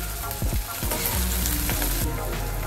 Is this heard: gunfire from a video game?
no